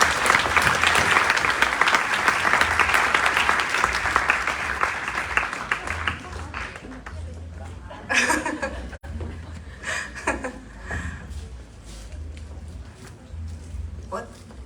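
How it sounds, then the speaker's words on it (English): At a Tibetan community and youth association gathering, an audience applauds the panelists in a loud, dense burst that fades after several seconds into chuckles, laughter and scattered talk. "Can we have a round of applause for them, please?"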